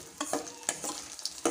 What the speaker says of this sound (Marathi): छान असं तळून होत आहे आपलं डिंक।